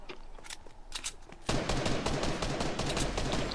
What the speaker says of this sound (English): this guy's still shooting at me